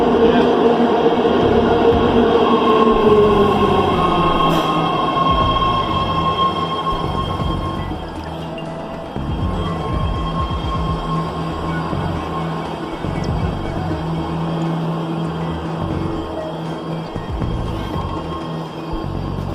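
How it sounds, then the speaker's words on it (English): BART D and E series cars run along the line with a loud sustained roar, a falling whine early on and steady wheel rumble with squeals throughout. "These cars are BART's D and E series cars."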